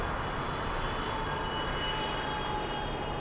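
A jet airliner taxis on the ground at LAX, its steady broadband engine roar and whine holding constant and fairly loud throughout with no voices.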